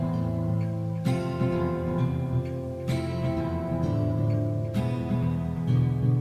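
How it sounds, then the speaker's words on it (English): Subject 4 Bonnie's song from a Five Nights at Freddy's fan game: a slow, moody electronic melody with sustained tones and a sharp note attack roughly every two seconds, playing steadily with no voices. "His song sounds like this."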